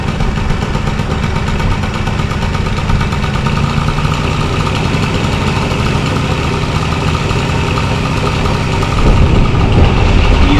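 Honda Stream scooter engine idling steadily after being brought back to running, a continuous close buzzing hum with even vibration and a slight rise in level near the end, no voices.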